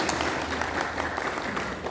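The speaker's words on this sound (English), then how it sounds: "let us give them a round of applause" A crowd applauds steadily for women officers at a film festival closing ceremony, dense clapping holding at an even level throughout with faint voices mixed underneath.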